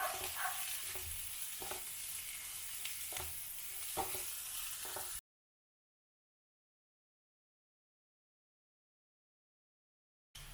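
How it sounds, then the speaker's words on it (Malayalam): Shallots and ginger-garlic paste sauté in a pan, a continuous close sizzle punctuated by regular stirring scrapes, then a long stretch of silence before the sound briefly returns. "വീണ്ടും നമുക്കിതൊന്ന് വഴറ്റിയെടുക്കാം."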